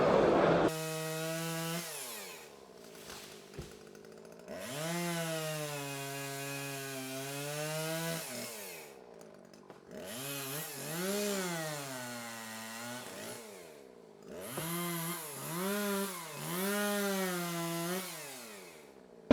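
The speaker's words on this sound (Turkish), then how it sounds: "T525 yeni model budama testeresi." A small Husqvarna T525 pruning chainsaw runs in bursts, its motor revving up and down with high whining tones, pausing briefly between revs, at an agricultural fair in Bursa.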